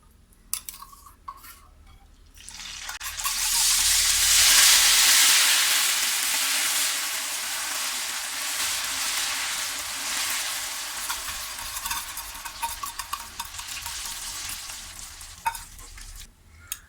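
Ground indigo and curry leaf paste goes into a hot pan of oil for an Ayurvedic hair preparation: after a few faint clinks, a loud hiss of frying bursts up, then settles into a steady sizzle with occasional utensil scrapes.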